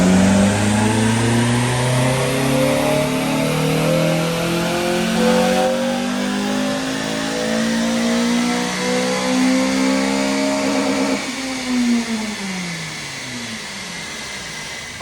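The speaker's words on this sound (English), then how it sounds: "next up is a Nighthawk Black FN2 for a power run" A Nighthawk Black Honda Civic FN2 with an aftermarket back box revs hard on a rolling-road dyno, its engine note climbing steadily through the gears in a long loud pull, then dropping sharply as the throttle closes near the end.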